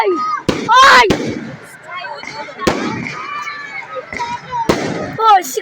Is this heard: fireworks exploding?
yes